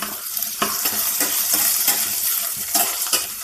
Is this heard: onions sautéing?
yes